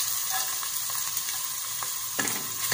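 Garlic frying with onion in a pan, a steady soft sizzle with occasional light clicks of stirring, close and alone.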